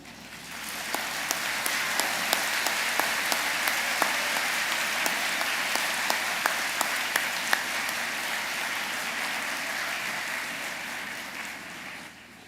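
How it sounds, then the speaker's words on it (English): An audience at a spring 2022 university science convocation ceremony applauds a jazz quintet, giving dense, steady clapping like rain that holds for about twelve seconds before tapering off. "let me first ask you to join me in giving the Brian Sand Quintet a very warm"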